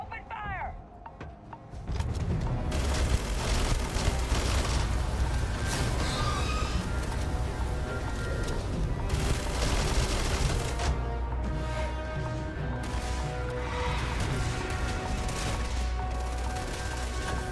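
Gunfire rattles in the Starfield sci-fi video game, dense and continuous bursts mixed with game effects, with people talking over it throughout.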